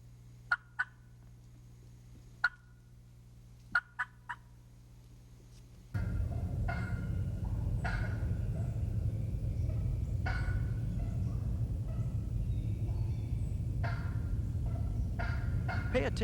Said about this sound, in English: Here's some more examples of just clucking, both by callers and hens.